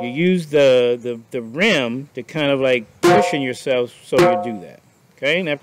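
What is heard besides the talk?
No everyday noise stands out behind the speech.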